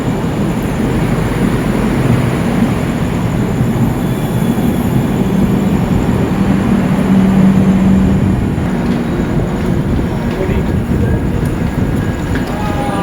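The 13115 Sealdah–Jalpaiguri Road Humsafar Express, a long train of AC and non-AC sleeper coaches, gives off a loud, steady rumble close by with no break.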